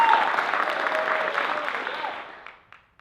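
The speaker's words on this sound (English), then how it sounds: "So when I put my hand over them, you're going to clap." An improv show audience claps loudly to vote a performer off, a steady burst of applause that thins out and fades over a few seconds.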